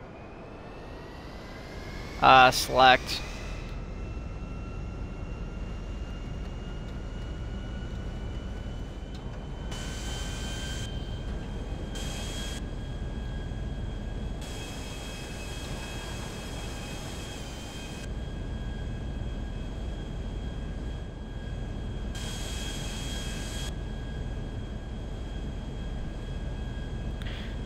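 Private luxury-class jet in a video game, a steady engine drone with tonal whine held throughout at moderate level, with a couple of sharp interface clicks near the start and intermittent higher hiss bursts.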